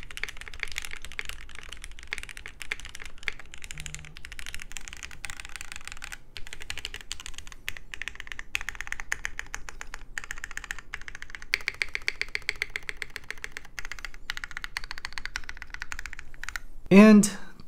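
Brisk typing on a plateless Wave 88 mechanical keyboard with hot-swap sockets, a continuous close patter of poppy, soft-edged keystrokes with a few heavier bursts, ending in a brief louder thump.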